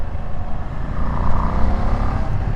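A Ducati Streetfighter V2s motorcycle engine drones steadily and loud while riding on a bumpy road behind a car, a continuous close rumble with no voices.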